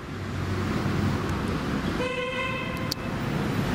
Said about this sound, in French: Encore un qui klaxonne